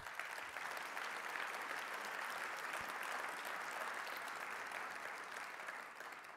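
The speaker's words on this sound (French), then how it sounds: "peut-être on peut les applaudir pour leur souhaiter la bienvenue" Audience applause at the Mouvement Démocrate 2024 congress, a steady dense wash of clapping from a large hall crowd, fairly distant and even throughout, fading slightly at the end.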